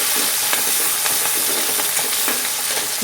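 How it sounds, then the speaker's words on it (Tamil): Green chillies sautéing in oil in a pan, a steady loud sizzle with light stirring scrapes throughout, no voices. "பச்சை மிளகாயை ஆட் பண்ணிக்கலாம் நல்லா தான் இருக்கும் இதை நல்லா வதக்கிக்கலாம்"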